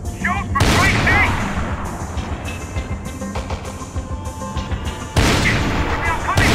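Gunfire in the video game Max Payne 3, loud repeated shots and bursts throughout a busy firefight, with a heavier blast near the end and voices shouting over the action.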